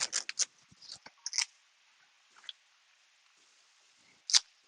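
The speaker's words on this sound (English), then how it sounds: "and then you cut the leaves" Scissors snipping Hawaiian ti plant leaves up close, a quick cluster of sharp crisp cuts followed by a pause and one final clean snip, with no talking.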